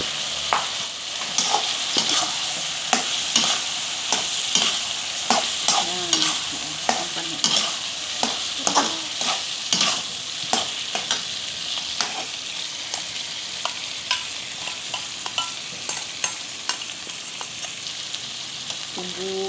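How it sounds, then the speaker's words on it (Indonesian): Satay peanut spice paste, blended peanuts with dried chili, shallots and garlic, sizzles loudly in a pan as a spatula stirs and scrapes it in repeated strokes, with no talking. "Bumbu sate ini kalau digongseng seperti ini teman-teman, dia tidak mudah basi."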